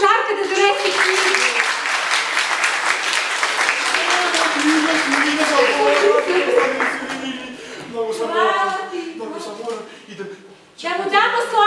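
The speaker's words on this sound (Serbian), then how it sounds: "Ajde, aplauz za Žarka da donese knjigu!" An audience at a festival opening claps in sustained, dense applause that fades briefly before resuming, with a voice speaking over the later part.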